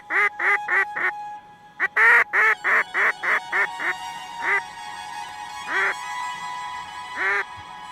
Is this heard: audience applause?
no